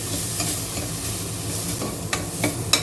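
Ground coriander, chilli powder, turmeric and garam masala fry in a pan, giving a soft continuous sizzle with stirring, while a few sharp scraping clicks from the spoon come near the end.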